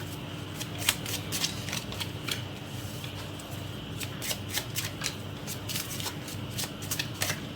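Tarot cards shuffled for a reading, a steady run of close, crisp riffling flicks and slides over a low hum, with no talking.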